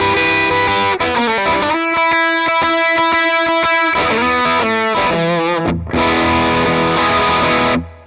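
Fender Super Sonic 22 guitar amp head with gain 2 fully up, heavily distorted mid-heavy electric guitar playing sustained chords and choppy riffs, loud and close, ending with a ringing chord that cuts off.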